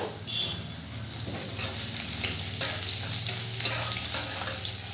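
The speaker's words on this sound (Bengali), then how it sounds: "তেলটা গরম হয়ে গেছে, এরপরে দিয়ে দেবো কালো সর্ষে আর গোটা জিরে ফোড়ন।" Black mustard seeds, whole cumin and chopped ginger frying in hot white oil make a continuous crackling sizzle, close and steady, with scattered sharp pops and the scrape of stirring, no voices.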